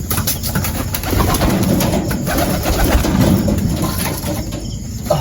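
Pigeons coo in a loft, several birds layered in soft, low, throaty calls that continue steadily and fairly close, with occasional faint wing flutters and no talking.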